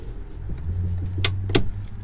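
A single sharp click of the parking brake pedal on a 2011 Toyota Sienna, close and brief, set against a low steady hum inside the vehicle, with a second faint click just before it.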